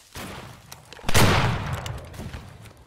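Musket volleys in the Civil War video game Battle Cry of Freedom during a Gettysburg event: a booming shot followed by scattered crackling fire that rolls on as it fades.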